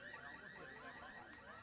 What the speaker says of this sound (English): that car alarm is a sound effect that they play here